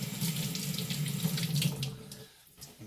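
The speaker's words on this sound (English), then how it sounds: "clean off in hot water in the sink behind us." Hot water runs from a tap into a workshop sink in a steady hissing stream, then briefly cuts off near the end before resuming.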